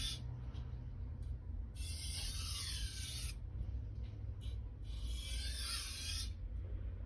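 A blade is stroked flat across a sharpener to strip off the burr. Two long, close rasping strokes sound over a steady low hum.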